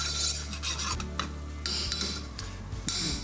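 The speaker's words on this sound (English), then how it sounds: "Stir in that flour and then cook that roux out." Flour and garlic being stirred into a roux in a pan, a steady scraping and rubbing of a utensil against the pan surface with light clinks, close and continuous without talk.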